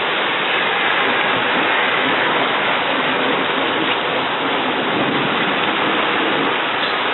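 Heavy rain pours during a rainstorm, a dense, continuous loud hiss of drops with no pauses and no voices.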